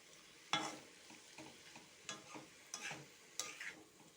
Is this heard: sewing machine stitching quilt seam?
no